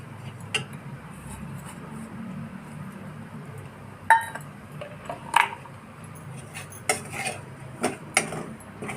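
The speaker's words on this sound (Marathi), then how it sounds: "तर हे खोबरं टाकते त्याच्यावरच परतायला" Grated coconut being stirred and roasted in a pan as filling for ukadiche modak, with a soft background hiss and a scatter of sharp metallic spoon scrapes and clinks against the pan, fairly quiet and close.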